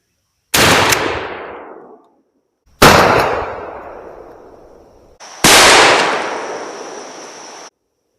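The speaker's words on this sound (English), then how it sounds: "we're going to shoot these Winchester Super X's and see what we get" Three loud, close blasts from a 12-gauge shotgun firing Winchester Super X 2.75-inch game loads outdoors, each a sharp crack with a long echoing tail, spaced a few seconds apart.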